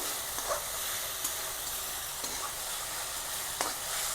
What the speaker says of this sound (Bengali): একটু কষাবো আমি মশলাটা